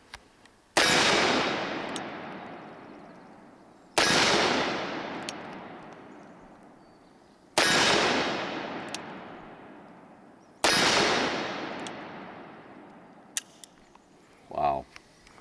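Four loud, sharp revolver shots from a Smith & Wesson Model 629 5-inch Classic and a Magnum Research BFR ring out about three seconds apart, each with a long decaying echo, followed by a brief voice near the end.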